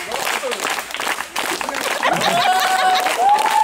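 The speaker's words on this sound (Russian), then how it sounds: "Аплодируем." Audience applause during a jeeping outing in Sochi with a dance contest, steady clapping throughout with crowd voices and some talking mixed in.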